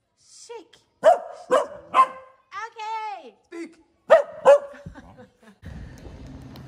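A pet dog barks a few short, clear times on command between a person's spoken commands and praise, close to the listener indoors.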